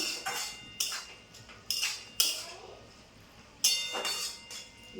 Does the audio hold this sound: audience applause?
no